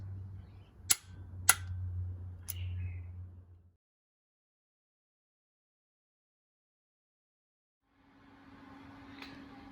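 Torque wrench tightening a gearbox fastener to 20 newton meters during a Citroen C2 clutch and gearbox install, giving three sharp close clicks over a low hum, then silence before faint workshop noise returns.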